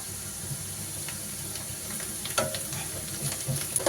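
Onions frying in a pan for a small-fish curry with tamarind leaves, a steady close sizzle with light stirring and scraping scattered throughout.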